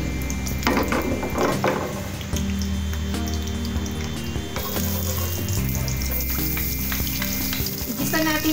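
Garlic sautés in hot oil in a pan for stuffed milkfish, a loud crackling sizzle with stirring scrapes and clatter close up throughout, with no talk.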